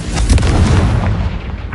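A Confringo spell explosion in the game Hogwarts Legacy, a loud deep boom with a rumbling blast that fills the short moment and fades toward the end.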